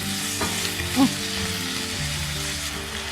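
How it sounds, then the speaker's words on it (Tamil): Chicken pieces frying with ginger garlic paste in a pan: a steady, close sizzle with occasional stirring scrapes, and no talk. "இப்போ வந்து நம்ம சிக்கனை நல்லா வதக்கி கொடுத்துட்டோம் இஞ்சி பூண்டு விழுதோடு சேர்த்து"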